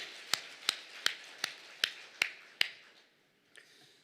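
Sharp, evenly spaced claps ring out about seven times in a steady rhythm during a Sunday worship service, then stop, followed by one fainter clap after a pause.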